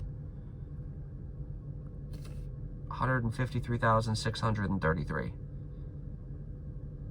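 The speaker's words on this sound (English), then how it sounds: "Car's actually running right now." A 2006 Land Rover Range Rover with a check engine light idles in cold weather, a low steady rumble running throughout beneath someone speaking in the middle.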